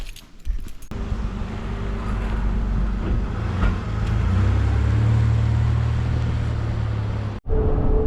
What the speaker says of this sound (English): I'm just driving to the Airbnb